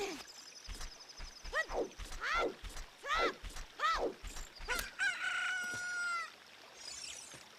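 A chicken hatches in the Ocarina of Time video game, with a run of about six loud, repeated electronic rooster crows followed by a sustained warbling game jingle.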